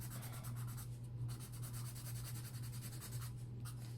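Soft, steady rubbing and scratching of colored pencil blending on paper in an adult coloring book, a quiet continuous stroke texture with gentle repeated passes and a constant low hum beneath.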